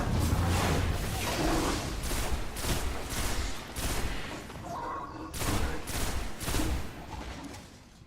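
Rifle fire rings out in the Destiny: The Taken King game, repeated sharp shots in rapid bursts with brief pauses between volleys, loud and dense throughout, with no speech.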